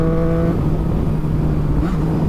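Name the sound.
Triumph Street Triple R motorcycle accelerating in 6th gear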